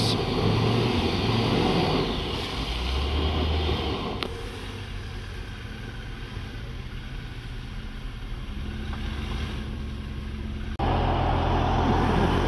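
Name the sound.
car engine while turning the car around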